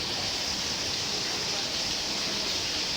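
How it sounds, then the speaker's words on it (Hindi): Heavy, continuous rain falls in Karachi during a prolonged downpour, forming a dense, steady hiss with no pauses or breaks. "3 आवर्स और मुसलसल बारिश बरस रही है।"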